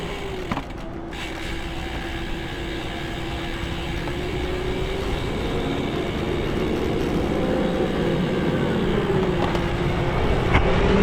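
A tractor rumbles by on a narrow country lane between steep hills, a steady, rising engine drone with creaks and rattles, heard close and without talk.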